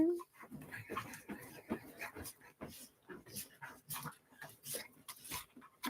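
A dog whimpers and pants in short bursts close by, amid lively talk and laughter from several people in a busy morning-show setting.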